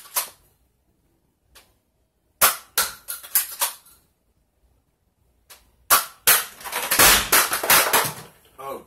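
A BoomCo Halo Brute Spiker toy blaster fires at a target with sharp, close snapping shots, some single and some in quick clusters, separated by pauses and handling clicks.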